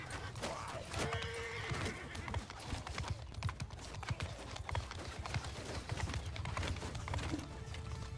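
Horses gallop and neigh in a Bannerlord battle, with a dense mass of hoofbeats under repeated loud whinnies and general battlefield din, busy and close throughout.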